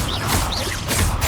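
Confringo blasting spell cast in Hogwarts Legacy, a loud burst of whooshing, crackling magic with swishing sweeps and a sharp explosive crash, close and dense.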